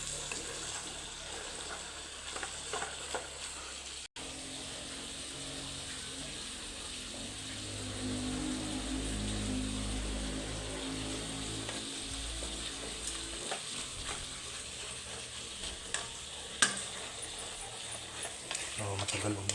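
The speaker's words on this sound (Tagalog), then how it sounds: "Haluin. Gisa-gisa." Beef papaitan is stirred and sautéed in a pan at home, with a steady sizzle and frying hiss under soft scraping and stirring clatter that swells midway, then eases off near the end.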